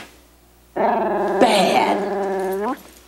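A dog lets out a single sustained growl that rises into a whining snarl, close and loud, lasting about two seconds before stopping abruptly.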